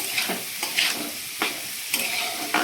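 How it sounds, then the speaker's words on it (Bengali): Egg with capsicum, onion and chilli is stir-fried in a pan, a soft background sizzle broken by about five sharp spatula scrapes at a fairly even rhythm. "ডিমটার সাথেই মা ক্যাপসিকাম পেঁয়াজ লঙ্কা এগুলো সব ভেজে নিচ্ছে"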